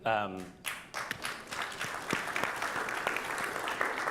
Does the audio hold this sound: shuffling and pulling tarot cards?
no